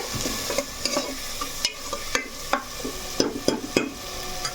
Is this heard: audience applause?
no